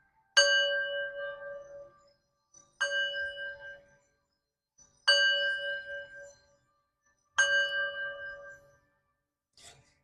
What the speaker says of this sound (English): So I'm going to ring my singing bell now, clear my energy, raise my vibration